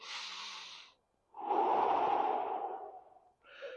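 Slow, deep breaths during a stretching exercise, heard close and alone: a short exhale, a pause of silence, then a long, heavy breath lasting about two seconds, and the start of another.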